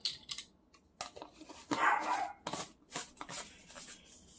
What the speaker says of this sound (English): Apologize for Nomi barking in the background.